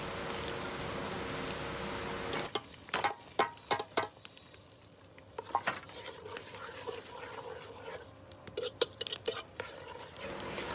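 A spoon scrapes and stirs ground ginger, garlic, coriander and onion pastes in a cooking pot, soft irregular clinks and scrapes following a faint steady hiss, quiet and close.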